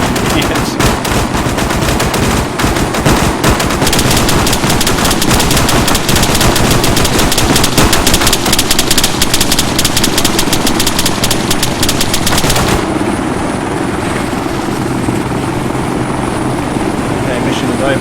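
Dense rapid automatic gunfire and explosions from an Arma 3 firefight with modded weapon sounds, loud and continuous over a helicopter rotor drone, with a voice talking over the battle.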